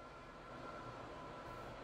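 A Roblox train rumbles along the track at a steady pace. A constant low, mid-level mechanical drone holds throughout, with no talk over it.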